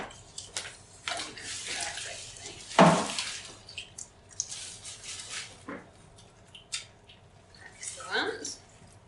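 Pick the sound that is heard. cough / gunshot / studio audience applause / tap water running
tap water running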